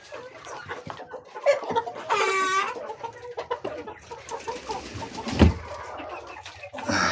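Adler roosters and chicks in a flock cluck and cheep nearby, with one drawn-out rooster call rising above a steady mix of short clucks and peeps.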